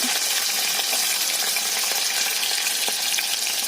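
Mustard seeds, a pinch of fenugreek, cumin and a little onion frying in hot oil for a tempering, a dense, bright sizzle holding steady with faint crackles, close and loud, no voices.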